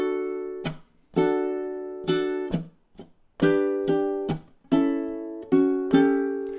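A ukulele plays a catchy chord melody through a full second ending, about a dozen crisp strums and plucks in an even pulse, each ringing briefly, close and unaccompanied.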